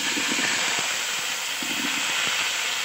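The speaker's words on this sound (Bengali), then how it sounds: "এবার কিন্তু মাংসের জন্য আলুটা ভেজে নেব।" Potatoes frying in hot oil for a meat curry, giving a steady, loud sizzling hiss throughout with faint scattered thumps underneath, close by.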